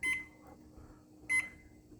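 An oven timer being set while a goulash casserole bakes gives two short, clear electronic beeps about a second apart in a quiet kitchen.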